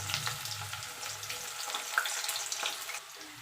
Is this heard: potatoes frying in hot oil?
yes